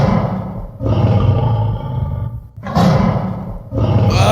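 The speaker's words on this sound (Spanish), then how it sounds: "¡Es un león!" Three deep, loud lion roars in sequence, each a long rumbling bellow separated by short pauses, heard up close and alone.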